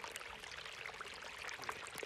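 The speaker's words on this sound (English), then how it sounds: "that's the sound of fresh rainwater running into the dam" Fresh rainwater runs into a small dam built from a pond, a faint, steady trickling and splashing wash of water with no voices.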